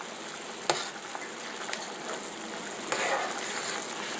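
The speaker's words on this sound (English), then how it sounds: "I'm going to turn this down just a little bit so it's not a rolling boil" A pot of beef dumpling soup at a rolling boil gives off a steady, close bubbling hiss with a few sharp pops and clicks, and no one talks over it.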